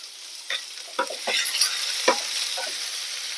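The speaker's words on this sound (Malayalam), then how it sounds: "വെളിച്ചെണ്ണ അവിടെ ചൂടായിട്ട് ഇതിലേക്ക് നമ്മൾക്ക് ആവശ്യത്തിന് കടുക് ചേർത്ത് കൊടുക്കാം നമുക്ക് എടുത്ത് വെച്ചിരിക്കുന്ന മുളക് ചേർത്ത് ഉള്ളി ചേർത്ത് കൊടുക്കാം" Mustard seeds, chilli and onion sizzle loudly in hot coconut oil, a continuous bright frying hiss with several sharp spits and pops as ingredients hit the pan.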